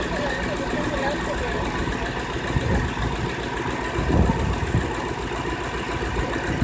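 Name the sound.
strange noise from idling Ford F-150 engine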